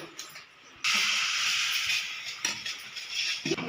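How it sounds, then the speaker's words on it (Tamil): A pot of eggs boiling on the stove with salt added gives off a loud, steady steam hiss that starts abruptly, holds close and constant, then dips and returns with small bumps toward the end. "இப்போ வந்து நம்ம முட்டையை தான் வச்சு அவிக்க போகிறோம்"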